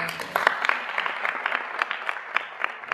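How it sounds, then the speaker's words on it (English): Audience clapping in a hall at the close of a performance, a loose, uneven patter of hands with distinct individual claps standing out above a soft crowd murmur. "Clap."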